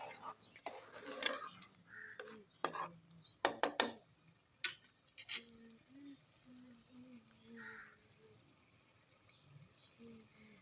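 A spoon stirs a tomato mixture for chicken karahi in a pot over the heat, giving irregular metallic clinks and scrapes, busiest in the first few seconds, then softer stirring with quiet talk underneath.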